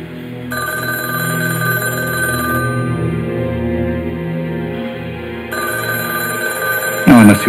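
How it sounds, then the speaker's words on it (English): A telephone rings in a tense indoor scene, its electronic bell tone sounding in repeated bursts over a steady low background hum, ending with a brief louder rustle. "I'd like to answer my phone."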